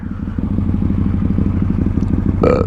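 A Can-Am side-by-side UTV engine idles and revs with a steady throbbing rumble close by, ending with a brief metallic clatter.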